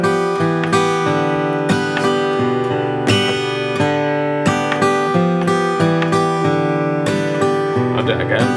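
Acoustic guitar plays the bass-note pluck-and-strum pattern of a traditional song in an arrangement, steady rhythmic strums with sharp note attacks, close and loud throughout.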